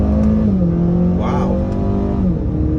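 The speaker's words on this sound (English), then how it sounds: "downshift into second, first gear, see how this car can accelerate" A 2022 Acura ILX engine roars loudly as it revs up hard in first gear, pitch climbing steadily under continuous strain, close and dominant throughout.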